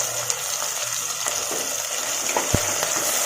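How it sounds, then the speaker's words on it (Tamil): Onion and tomato with a little salt sautéing in a pan for a chicken gravy, giving a continuous close sizzling hiss with a few soft stirring knocks and one sharp tap. "வெங்காயம் தக்காளி எல்லாம் நல்லா மசிஞ்சு வர்ற அளவுக்கு வதக்கி விடுங்க."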